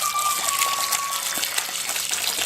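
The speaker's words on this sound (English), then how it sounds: "Spray off the rock real good." Tap water gushing and spraying onto a rock held in a flexible tank during cleaning, a continuous hissing splash close by at steady loudness with no speech.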